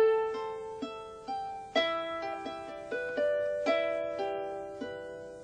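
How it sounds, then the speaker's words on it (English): Replica of King David's harp, plucked solo: a slow run of clear, ringing notes with sharp attacks and long sustained decay, each pluck blooming over the lingering previous tones, close and moderately loud. "The sounds of the harp of David being played by Shoshanna Harrari."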